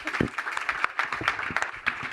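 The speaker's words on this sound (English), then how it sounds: "please give a round of applause to the panel" Audience applause at the close of a Climate Week panel session on scaling the grid for EV adoption, scattered moderate clapping from a modest crowd in a conference room.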